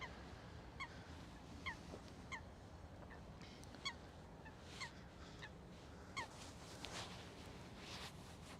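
Geese or similar water birds honk repeatedly at Schiphol Airport, several short, fairly clear calls scattered over steady low background rumble, with no talking.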